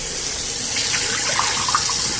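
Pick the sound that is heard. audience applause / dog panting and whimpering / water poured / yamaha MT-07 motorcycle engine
water poured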